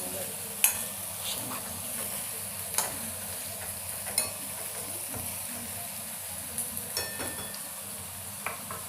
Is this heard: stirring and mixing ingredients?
yes